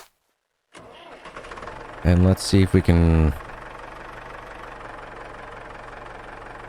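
A tractor in the Farmer's Life farming game cranks and fires up loudly, then settles into a steady low idle rumble, with someone talking over the start.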